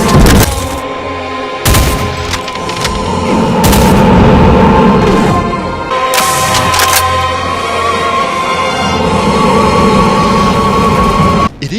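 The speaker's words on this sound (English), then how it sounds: "A 360 spread of Hellhand exploding trails." Hellhand exploding trails burst in a 360 spread in a Doom mod, firing off loud gunfire-like blasts and rumbling booms, with sharp cracks at the start and again around six seconds over a dense roar.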